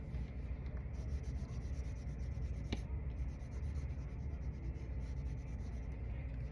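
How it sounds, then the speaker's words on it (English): Steady close rubbing of a marker tip coloring on small wooden legs for a yarn-wrapped lizard craft, a continuous soft scratchy stroke with one brief sharper tap, no voice. "We're going to be using markers to decorate these wood legs."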